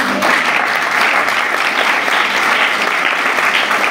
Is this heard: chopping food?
no